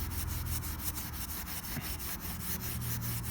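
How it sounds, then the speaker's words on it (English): Steady back-and-forth hand rubbing while polishing the metal skin of a 1965 Santa Fe travel trailer, a soft, close scraping swish repeating in regular strokes under faint background noise. "I'm just going to be rubbing it back and forth, and eventually, with a lot of elbow grease"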